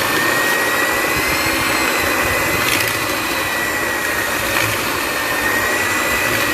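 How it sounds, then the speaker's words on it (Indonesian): An electric mixer beats cake batter with eggs and vanilla, giving a loud, steady, continuous whir that holds without pause, with no voices. "ini dikocok ya, saya menggunakan mixer"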